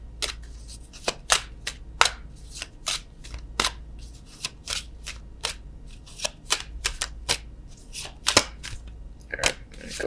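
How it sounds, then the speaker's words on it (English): Oracle cards being shuffled and drawn for a love reading, giving a rapid series of crisp, close papery snaps and flicks in irregular bursts over a faint low hum, with no talking. "let's get a love oracle card"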